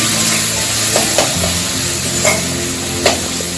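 Potato and onion frying in a pan with turmeric for a prawn and okra curry, a loud, dense, continuous sizzle close up, punctuated by a few sharp spatula scrapes, no voices.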